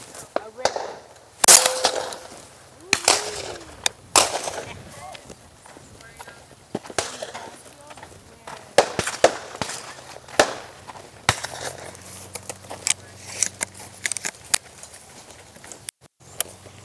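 Shotgun blasts at a dove hunt in South Texas fire as a string of sharp, loud bangs spread irregularly through the clip, some close and some more distant, with people talking faintly in the background.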